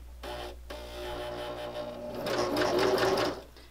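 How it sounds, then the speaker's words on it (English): A home sewing machine stitches fabric for a pocket tissue cover, a steady close mechanical whir with rapid needle ticking that runs continuously and grows louder and faster toward the end before stopping. "We're going to start here in the middle and we're going to stitch all the way around."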